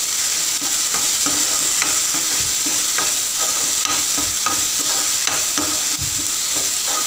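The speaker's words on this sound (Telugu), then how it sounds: "అలాగే గరం మసాలా, తీసుకున్నాక ఒకసారి వేయించుకోవాలి." Garam masala frying in ghee for a mushroom curry, a steady close sizzle with regular spoon scrapes and stirring knocks repeating throughout, no voices.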